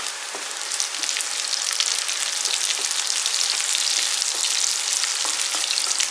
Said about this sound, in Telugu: కొద్దిగా ఆయిల్లో బాగా ఫ్రై అవ్వాలి.